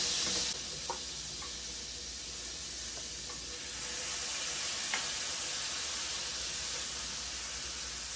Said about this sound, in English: To the same pan, we're gonna start off with adding our garlic.